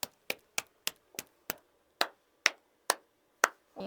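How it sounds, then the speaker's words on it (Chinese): Eleven sharp hand claps in a quiet soundproofed room, evenly spaced and close, each dying off almost at once with little echo and silence between. "你看这里面拍手的声音也不一样"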